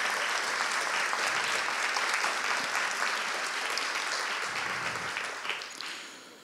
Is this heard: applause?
yes